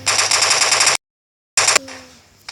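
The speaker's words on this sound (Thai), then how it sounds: "มีการยิงนะครับ" Rapid automatic gunfire in the Standoff shooting video game, a loud rattling burst for about a second, a silent gap, then a shorter second burst that trails off into quiet.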